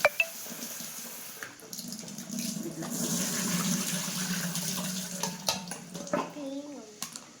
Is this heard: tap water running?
yes